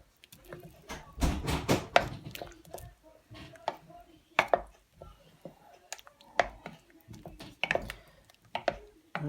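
A spoon stirs thyme, sage and rosemary into a slow-cooked ketogenic orange and cinnamon stew, giving soft wet squelches and scraping knocks in irregular bursts.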